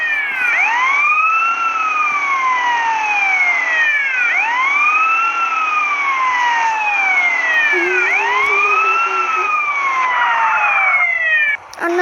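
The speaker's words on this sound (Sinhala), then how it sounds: "පොලිස් වාහනයක් අරන් ඉන්නේ. සයිරන් හඬ දාගෙන යමු." A police car siren in the video game GTA San Andreas wails loud and close, sweeping up and down in a repeating cycle with no pause. A low steady engine hum runs underneath.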